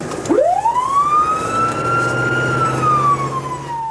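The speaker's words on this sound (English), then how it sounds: "It's a code 3 call. That means high speed, lights, and siren." An ambulance siren on a code 3 emergency run sweeps sharply upward, then holds a loud, sustained wail that slowly bends, with a low vehicle rumble underneath.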